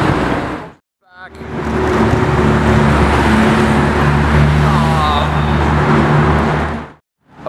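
A brand-new red Porsche 991 Speedster drives by on the road, a steady engine roar that swells and fades over several seconds amid traffic noise.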